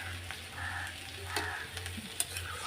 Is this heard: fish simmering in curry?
yes